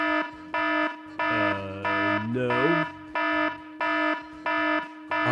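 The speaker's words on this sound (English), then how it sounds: "as well as sounding an alarm, it also reports the phone stolen and enables GPS tracking" A phone's anti-theft alarm blares in the video game Supreme League of Patriots, pulsing in steady repeated bursts under game music, while a voice speaks briefly partway through.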